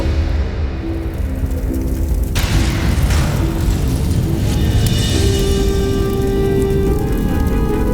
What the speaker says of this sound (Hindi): विस्फोट हो जाएगा अग्नेयास्त्रों में।